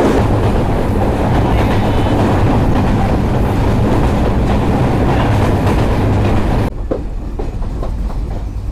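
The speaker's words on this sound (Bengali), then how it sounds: "এক মিনিটের বিলম্ব নিয়ে আমাদের ট্রেন প্রবেশ করছে ভেড়ামারা রেলওয়ে স্টেশনে" Kapotaksha Express passenger train rolling on rails between Khulna and Rajshahi as it enters Bheramara station, a loud steady clatter of wheels and carriage rumble that drops suddenly to a quieter, thinner rattle near the end.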